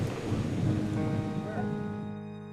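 Thunderstorm over a mountainous zip line crossing in Bolivia, a deep rumbling roar of thunder with a rain-like wash that slowly fades, fairly loud and alone.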